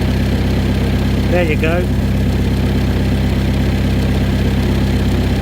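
A Ford YB engine in a Mk1 Escort idling steadily with ignition timing just set, a loud, even low rumble running throughout, with a brief spoken remark from a man near the start.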